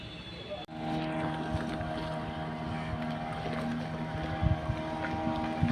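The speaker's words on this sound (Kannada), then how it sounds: "ಒಂದು ದೋಣಿ ಬರ್ತಾ ಇದೆ." A motorboat approaches at Malpe harbour in Udupi, its engine droning steadily and loudly close by for the whole stretch, with wind buffeting the microphone and no talk.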